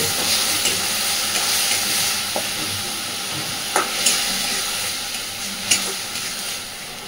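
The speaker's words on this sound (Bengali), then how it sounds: "খুব ভালোভাবে মিশিয়ে দেব।" Food being stirred and mixed in a frying pan while a home-style dish cooks, a steady broadband sizzle with a few sharp spoon scrapes and clinks scattered through, close and fairly loud, no talking.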